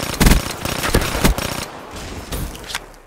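Rapid bursts from a burst-fire SMG in Black Ops 3, loud and close, with a cluster of sharp shots in the first second and a half followed by quieter, more spaced reports.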